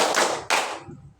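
A couple of quick hand claps, close and sharp, followed by a fading wash of noise.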